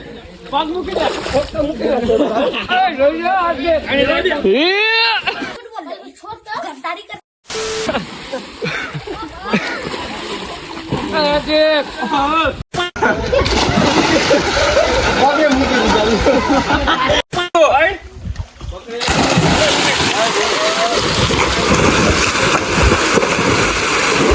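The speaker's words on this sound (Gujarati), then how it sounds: "જોઈ લ્યો હાર્દિકભાઈ ટીચર ગયું પાણીમાં." Water splashes and sloshes in a swimming pool through most of the stretch, loud and busy, with people talking and shouting over it.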